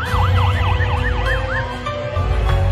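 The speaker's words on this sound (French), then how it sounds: "Les ambulances sont en chemin." Ambulance siren wailing in a fast rising-and-falling pattern, loud and close, with a steady engine rumble beneath it, heard on its way to the scene of the Aloha Airlines Flight 243 accident on Maui.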